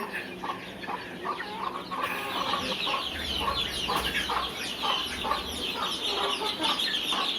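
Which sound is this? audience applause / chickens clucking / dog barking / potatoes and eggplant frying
chickens clucking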